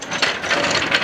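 Ratchet jack being pumped to lift an Ariens lawn tractor, a close, steady run of clicking pawl strokes filling the whole moment with no voices.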